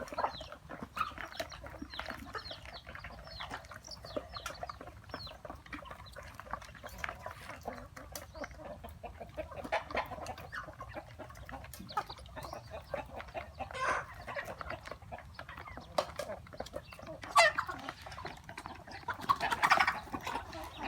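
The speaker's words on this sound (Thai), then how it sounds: "ไก่ทั้งหมดของเราเนาะมีทั้งไก่หลุนไก่สาวลูกไก่ แล้วก็เป็นไก่พ่อแม่พันธุ์เนาะค่ะ" Free-range native village chickens, hens, pullets, chicks and breeding stock, kept in a bamboo grove, clucking and calling steadily at a moderate distance while someone talks over them.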